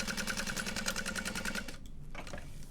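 Sewing machine running top stitching on a bowler bag, a steady rapid mechanical chatter that runs for about a second and a half and then stops, leaving quiet handling noise.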